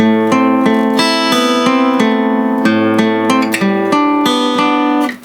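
Acoustic guitar picking an arpeggiated bar from an 80s rock ballad, ringing notes plucked one after another in a steady pattern with a slight pause before the final section, close and clear with no talking.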